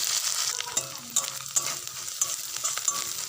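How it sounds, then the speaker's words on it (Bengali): Ginger-garlic paste fries in a pan for a fish recipe, with a steady close sizzle and sharp clinks of stirring throughout, alone with no voices. "আদা রসুন বাটাটা দিয়ে ভালোভাবে ভেজে নেব।"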